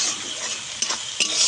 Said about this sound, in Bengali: পেঁয়াজ কুচিটাকে আমি ভালো করে ভেজে নেব।